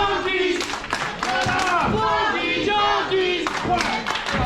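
A pro wrestling crowd at a live show roars and shouts at ringside, a dense, loud wall of cheering with scattered claps, while a commentator talks over it.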